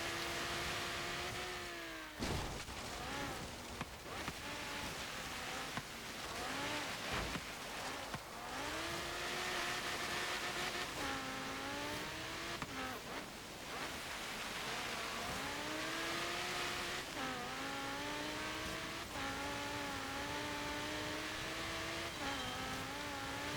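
A 2016 Audi R8 V10 plus races up a snowy mountain hill climb in Forza Horizon 3, its engine revving in repeated rising sweeps between gear shifts, loud and continuous with no voices.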